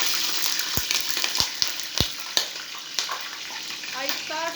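Water splashes into melted sugar in a hot pan on low heat while making halwa, giving a steady hiss and sizzle with several sharp crackles and pops close by.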